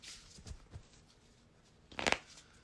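Playing cards being shuffled by hand, a few soft riffles and snaps close by, ending in a louder, sharper burst of riffling.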